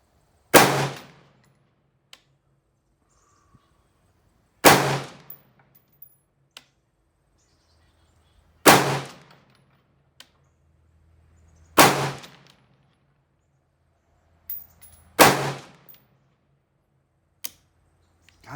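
AR carbine fired at a range target, with five loud sharp gunshots spaced about three to four seconds apart, each trailing off in a short echo, and faint clinks between them.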